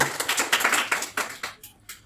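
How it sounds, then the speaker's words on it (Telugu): Loud clapping from a church congregation during a Telugu sermon, a dense burst of many hands that fades out after about a second and a half, leaving a few scattered final claps. "గట్టిగా చప్పట్లు కొట్టండి"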